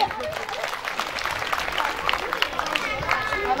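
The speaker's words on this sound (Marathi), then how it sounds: "एकदा जोरदार टाळ्या व्हायलाच हव्या" A school audience applauds children after their dance performance, a crowd of clapping hands layered under someone talking.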